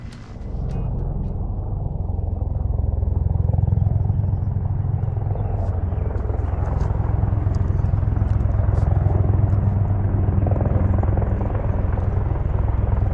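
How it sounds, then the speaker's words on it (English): A Black Hawk helicopter flies overhead near High Rock Lake, a loud, steady low rumble and rotor drone that swells in and holds throughout without speech. "Black Hawk helicopter."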